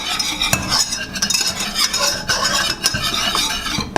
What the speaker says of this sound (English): now we're gonna mix in the flour, 1/4 cup of that